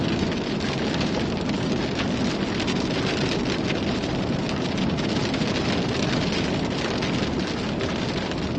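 Heavy rain pours down outside during a storm chase in the high country, a loud, unbroken roar of spatter and hiss with no pauses and no voices.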